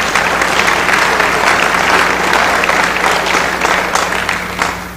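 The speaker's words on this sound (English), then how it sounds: "a round of applause for these folks" A banquet audience at a school arts and academic event applauds volunteers with steady, dense clapping that holds for about five seconds and tapers slightly at the end.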